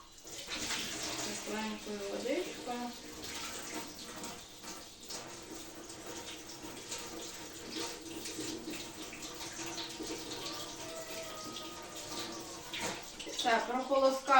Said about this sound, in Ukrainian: наливаю чай, заварничок вірніше, теплою водичкою